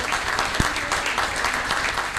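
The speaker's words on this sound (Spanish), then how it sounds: "El aplauso para Hernán Rodríguez" Audience applause on a local evening program, continuous clapping from a gathered crowd at moderate loudness, steady with a few sharper individual claps standing out.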